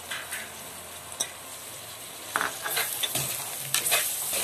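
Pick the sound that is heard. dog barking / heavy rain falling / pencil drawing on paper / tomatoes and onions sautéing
tomatoes and onions sautéing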